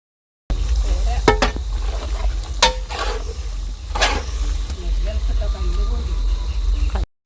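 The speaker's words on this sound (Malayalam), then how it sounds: "ചിക്കൻ ഇട്ട് കൊടുത്തതിന് ശേഷം നന്നായി ഇളക്കി യോജിപ്പിക്കുക" Chicken stirred into an onion and tomato gravy in a pan for a Palakkad-style chicken curry, with scraping utensil strokes at intervals over a soft, steady cooking hiss.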